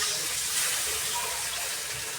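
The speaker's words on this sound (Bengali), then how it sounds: "মশলা কষানো হয়ে গেছে, জল দিয়ে দিব আমি পরিমাণ মতো" Water pours into a pan of fish curry, a brief steady splashing gush heard up close, unbroken and fairly soft for about two seconds.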